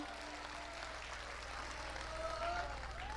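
Audience clapping at a Bundeli poetry gathering during a poet's recital, a quiet, steady wash of applause heard from a distance over a low hum, with faint tonal sounds drifting through.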